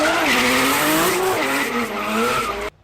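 A race car engine roars loudly while tires squeal and skid, pitch sweeping up and down, then the sound cuts off abruptly.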